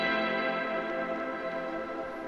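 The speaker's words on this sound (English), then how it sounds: "add was a guitar pad type thing" A sustained, dreamy guitar pad washed in echo and reverb hums as a soft, steady chordal drone, layered for a lo-fi hip-hop beat with no drums or voices over it.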